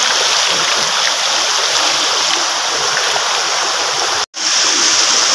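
A river stream rushes near Dony Polo waterfall in Arunachal Pradesh with a close, loud, continuous hiss of water. The sound breaks off for a moment near the end, then resumes.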